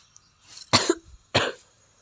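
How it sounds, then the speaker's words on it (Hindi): Two harsh coughs, close and fairly loud, with a short pause between them. "ना जाने मुझे ये खांसी बार बार आज क्यों लग रही है"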